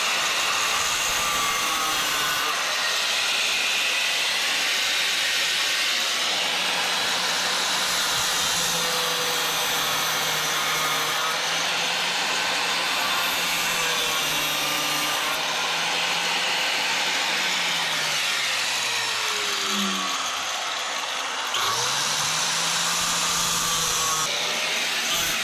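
A grinder runs continuously while cutting into a car dashboard, a loud, close, steady whine and rush whose pitch wavers slightly as the tool bites and eases off. No one speaks.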